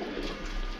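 A pigeon gives a single short, soft, low coo nearby, faint and brief, with no talking.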